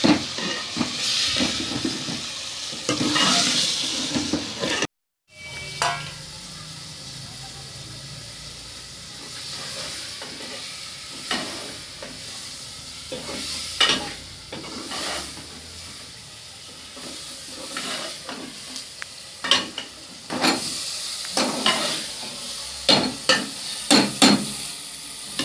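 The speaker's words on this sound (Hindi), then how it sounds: "अब हम इसमें चिकन शामिल करेंगे और इसको 5 मिनट" Chicken sizzles and fries in masala in a pan while being stirred, with repeated scraping and stirring bursts over a steady hiss, close and moderately loud, with a brief cut early on.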